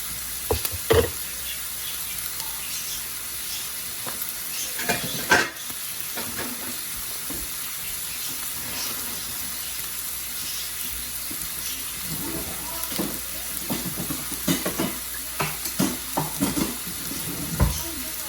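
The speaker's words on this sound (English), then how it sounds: "Now it's good for the meat to cook with the onion and garlic to make sure and help take the gamey flavor out." Meat sizzles in a pan with onion and garlic for an Arabic home-cooked dish, a soft, continuous frying hiss broken by occasional stirring clatters and scrapes.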